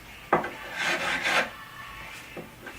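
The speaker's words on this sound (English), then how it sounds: "needs to be filed here, and I don't press too hard on the file at all." Guitar frets filed with a 300 grit file under light pressure, two or three short, close raspy strokes, one longer stroke in the middle, then quiet.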